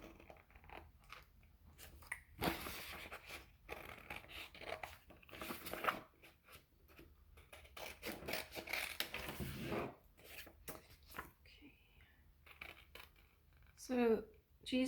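Scissors cut through a stack of four paper sheets for a simple craft, giving several crisp, crunchy snipping bursts close by, with a voice talking between them.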